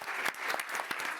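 Audience applause at a film press conference, a dense steady patter of many hands clapping throughout, fairly close and full, with no talk over it.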